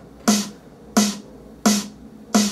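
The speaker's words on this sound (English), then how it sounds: "So those two snares together sound like this." Two layered snares, a drum machine snare stacked with a break snare, struck four times at an even pace, each hit bright and snappy with a short tonal body, loud and alone.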